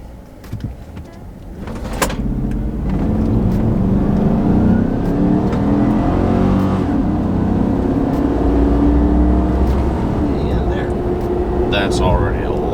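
A pickup truck on 35-inch tires with AFM disabled launches hard from 0 to 60, its engine roaring up loud and close and holding a strained, rising drone for about ten seconds after a few clunks at the start.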